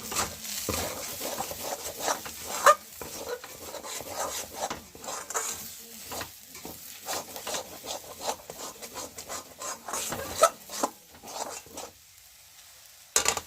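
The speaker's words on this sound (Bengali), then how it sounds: "পুরটা এখন মোটামুটি আমি মাঝে মাঝে নেড়ে নিচ্ছি" Pea and black cumin kachori filling being stirred in a pan, with intermittent scraping and rubbing strokes of a spatula against the metal and a faint sizzle underneath, fairly close and steady without speech.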